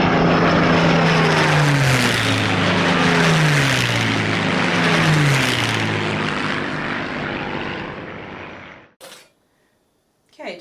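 A sewing machine running fast while stitching a dog bandana, a steady continuous motor drone with a rising whir that ends abruptly near the end, followed by brief soft handling noise.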